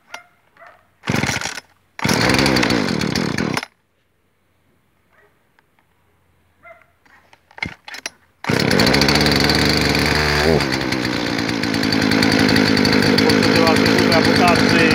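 A Chinese-made chainsaw and a Husqvarna chainsaw started from cold with the choke pulled: several short pull-start bursts with pauses between them, then the two-stroke engine catches and runs loud and steady, with brief revving, close to the recorder.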